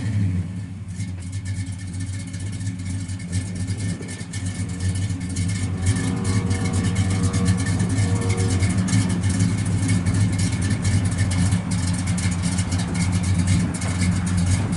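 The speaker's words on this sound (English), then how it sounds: "Sounds real good off the exhaust," A 1967 Pontiac GTO's engine rumbles steadily through its exhaust, a deep, loud, even idle with a slight swell in level partway through, heard alone without talk.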